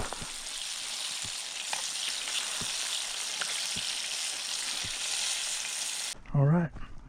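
Fries and fresh fish sizzle steadily in a pan over a camp stove outdoors, a close, even frying hiss with faint crackles that runs continuously before cutting off into a brief muffled thump at the end.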